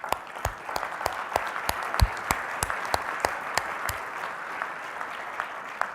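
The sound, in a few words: audience round of applause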